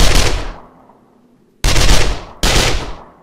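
Three loud, close gunshots in the zombie survival video game 7 Days to Die, each a sharp blast with a ringing decay, the first followed by a long pause and the last two coming close together.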